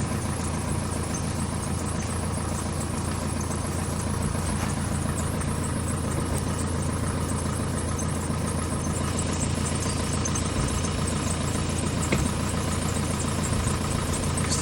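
A steam cleaner runs continuously on a 2005 Vauxhall Meriva A car, a loud, steady mechanical drone with an even hiss and no voices.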